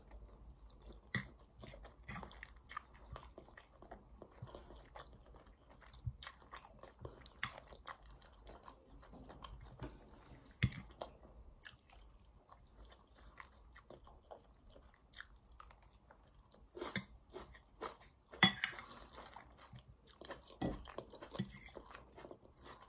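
Crunchy onions being bitten and chewed close to the mic, with repeated crisp crunches in an irregular rhythm over a quiet background and no talking.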